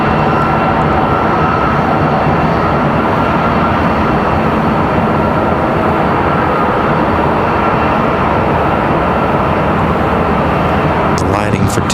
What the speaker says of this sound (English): And that American Eagle already on the move.